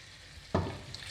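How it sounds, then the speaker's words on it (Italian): Small cuttlefish and peas sizzle in a pan, then a sudden stir brings a loud close burst of frying hiss and scraping that settles back into a softer sizzle. "Mescolo bene"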